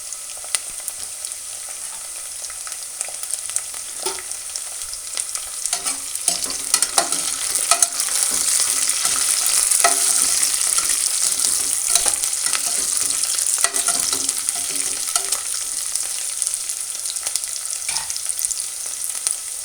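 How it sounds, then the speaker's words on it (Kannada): Onion and chopped green chilies frying in oil for a hotel-style veg pulao, a loud continuous sizzle with repeated stirring scrapes against the pan throughout. "ಉಳ್ಳಾಗಡ್ಡಿ ಬ್ರೌನ್ ಆಗಿದೆ, ಮೆಣಸಿನ್ಕಾಯಿ ಎಣ್ಣೆಯಲ್ಲಿ ಫ್ರೈ ಆಗಿದೆ"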